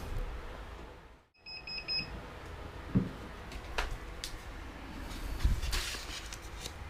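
A 20-second timer goes off during work removing a print from a T-shirt, giving a short series of rapid high beeps, followed by scattered handling and shuffling noises.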